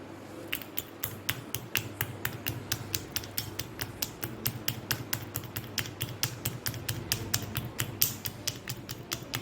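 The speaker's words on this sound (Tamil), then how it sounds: "இந்த உரலில் அரிசி போட்டுருவோம்" Rice pounded in a stone ural mortar gives a steady run of quick, sharp knocks at close range, fairly faint and evenly paced, with no voices.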